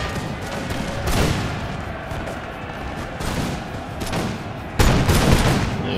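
Massed infantry musket fire crackles continuously in a battle in the video game Empire: Total War, Cossack infantry and militia engaged, with louder volleys bursting out around one second and again near five seconds.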